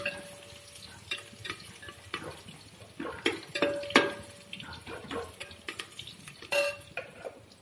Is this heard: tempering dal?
yes